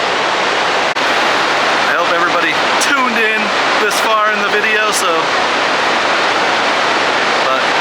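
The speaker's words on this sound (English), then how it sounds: "checking out the water pouring into Lake Taneycomo" Floodwater from Table Rock Lake Dam pours into a very full Lake Taneycomo, a loud, steady broadband roar that runs throughout while a person talks over it for a few seconds.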